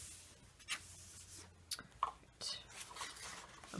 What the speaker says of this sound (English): So I'm going to fold it back flat again.